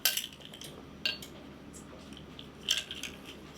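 A spoon stirs pumpkin pie spice into pumpkin donut batter in a bowl. Soft scraping is broken by a few sharp, close clinks of metal against the dish.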